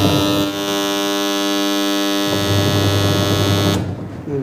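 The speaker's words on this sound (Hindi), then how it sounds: "बजर यहाँ पे ऑन हो चुका है और लगभग 15-20 सेकंड तक चलेगा" A washing machine's end-of-cycle buzzer drones as a loud, steady electric tone. A lower motor hum shifts partway through, and the buzzer cuts off near the end, leaving a faint rumble.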